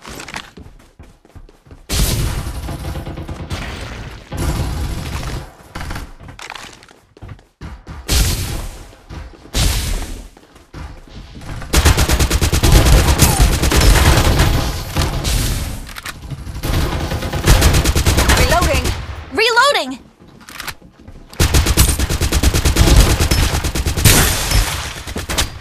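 Loud bursts of rapid gunfire in the mobile shooter Farlight 84, coming in repeated volleys separated by brief lulls, with booming impacts and a whistling effect near the end.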